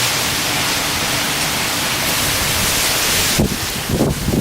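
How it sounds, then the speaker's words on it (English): Strong wind during Hurricane Irma, a constant loud broadband roar buffeting the microphone with a couple of heavier gusts near the end, no voices. "It's definitely getting windy."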